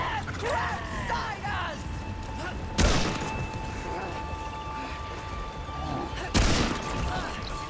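Two sharp, loud gunshot blasts from Remnant 2 gameplay, spaced a few seconds apart, over a steady ambient game background with faint creature-like cries early on.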